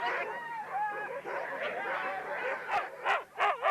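Several sled dogs bark and yip excitedly in bursts at a sled dog race, close by, over a busy background of voices and movement.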